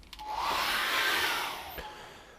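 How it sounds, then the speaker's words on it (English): A hairdryer drying acrylic paint on a canvas blows a steady airy whoosh for about two seconds, switching on and rising briefly, close and alone without talk. "What I'm going to do now is dry that off with a hairdryer"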